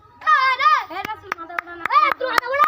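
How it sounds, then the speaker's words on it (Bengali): Hands clap in a steady, evenly spaced rhythm, about seven sharp claps, while children chatter and sing over them during a family underwater challenge game. "হাততালি দাও।"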